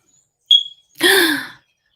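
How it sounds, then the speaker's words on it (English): A brief high electronic beep, then a short loud shrill squeak, a smoke detector's low-battery chirp, in an otherwise silent room. "my smoke detector is telling me it needs new batteries"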